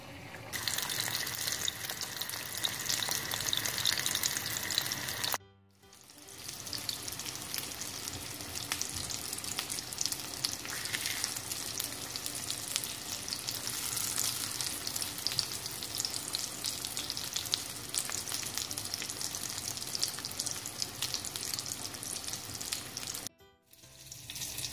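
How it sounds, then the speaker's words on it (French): Burger steaks sear in hot oil in a grill pan, a loud, dense sizzle that hisses on continuously, breaking off briefly twice, with no voices. "une fois que l'huile sera bien chaude, on va saisir nos steaks."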